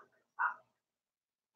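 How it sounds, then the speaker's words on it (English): A couple of short, distant dog barks sound from pet dogs at home, separated by a silent pause, quiet and with no talking over them. "My dogs are going off."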